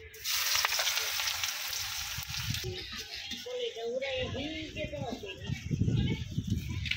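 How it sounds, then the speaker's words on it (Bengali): Onion and garlic frying in a pan: a steady loud sizzle fills the first few seconds, then continues as a softer hiss while a voice talks over it. "এখন হলো গিয়ে পেঁয়াজ আর রসুনগুলো আমি ভাজা নিব"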